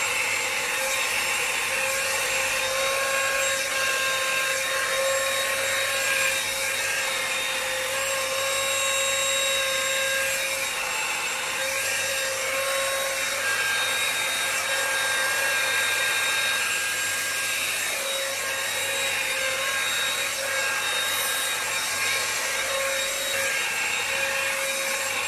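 A Britânia BER22RX rotating hot-air brush, a bivolt Natural Care dryer brush, works through a section of freshly washed, conditioned natural hair, giving off a loud, continuous blowing hum with a faint motor whine that stays steady throughout, with no talking.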